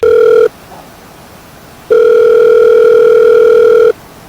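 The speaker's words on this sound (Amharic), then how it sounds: "ስልክ የድሮ ስልክ።" An old landline telephone rings with a steady electronic tone in two bursts, a short one and then a longer one of about two seconds, loud and close, with no voices.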